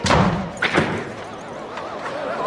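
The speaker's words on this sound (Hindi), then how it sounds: "दरवाजा बंद करो।" A door slams shut with a loud thud, followed by a couple of softer knocks and a lingering noisy background.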